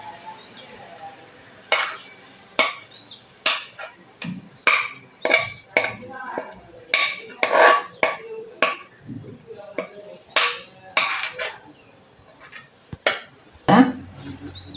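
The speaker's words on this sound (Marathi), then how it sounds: "आपण उतरूया आणि हे मिश्रण ताटात टाकूया" Grape jelly mixture being scraped from a pan onto a plate, a series of sharp metallic scrapes and clinks of a spoon against cookware, repeated irregularly and close, with a voice speaking now and then.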